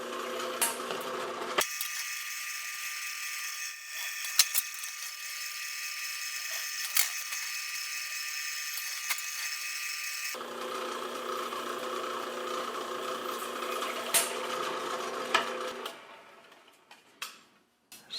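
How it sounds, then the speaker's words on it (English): A 1/2 inch rotor-broach annular cutter drills pilot holes in a metal panel with a steady, close whirring drone, broken by brief pauses and faint ticks before the motor winds down at the end. "I'm going to use a 1/2 inch diameter rotor-broach annular cutter to make the pilot holes in this"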